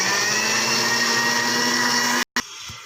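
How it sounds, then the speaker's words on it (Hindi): Onion churns in an electric grinder machine with a loud, steady motor whine, then the motor cuts out abruptly, restarts for a brief burst and settles to a quieter hum. "हमने इसके अंदर प्याज डाल दिया है मशीन के अंदर, अभी इसको ग्राइंड कर देंगे"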